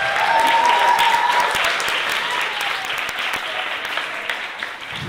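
Sustained audience applause fills a comedy show hall, dense and loud from start to finish, tapering only slightly toward the end with no talk over it.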